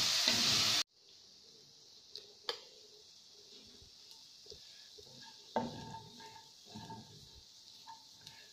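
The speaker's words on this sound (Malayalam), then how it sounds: "നല്ല ഡ്രൈ ആയിട്ട് ഫ്രൈ ചെയ്തെടുക്കണം." Prawns frying dry in a pan for prawn roast: after a short loud burst at the start, a soft continuous sizzle runs with occasional light clinks and scrapes of stirring, close but quiet.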